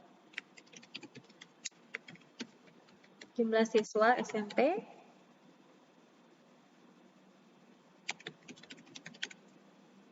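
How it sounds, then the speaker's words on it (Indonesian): Keys on a computer keyboard tick in quick irregular bursts, then a rapid flurry of repeated backspace presses, with someone speaking in Indonesian over the typing. "Lalu dengan menggunakan backspace pada keyboard"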